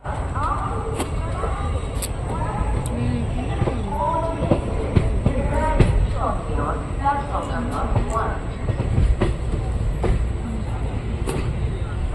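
The Sheshadri Express runs from Tirupati to Bangalore, its steady loud rumble rolling on under a constant din, with people talking throughout.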